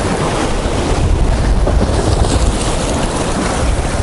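Sea waves surge and break onto a pebble beach at Bytkha in central Sochi, a loud continuous wash of surf with wind buffeting the microphone and no voices.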